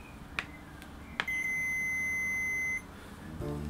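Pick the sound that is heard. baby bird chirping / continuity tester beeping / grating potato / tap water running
continuity tester beeping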